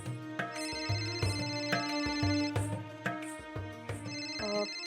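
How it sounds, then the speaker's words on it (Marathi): A phone ringtone plays a bright repeating melodic tune with bell-like notes in a steady rhythm, moderately loud, with no talk over it. "सर मला फोन येतो, मी प्लीज घेऊ?"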